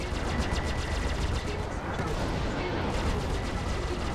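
Salvos of ship weapon fire in the space game Star Citizen, a steady rapid stream of blasts with dense rhythmic bursts, loud and continuous with a voice talking over it.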